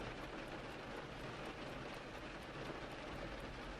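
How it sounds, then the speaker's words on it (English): Steady rain falls in a soft, even hiss that stays constant and fairly faint throughout, with no voices over it. "the rain seems to briefly up its tempo before resuming its steady rhythm"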